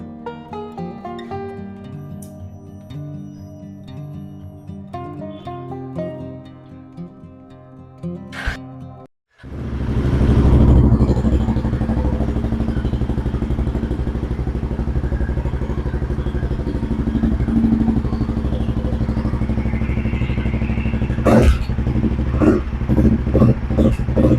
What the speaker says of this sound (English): now it's time to listen exhaust note sound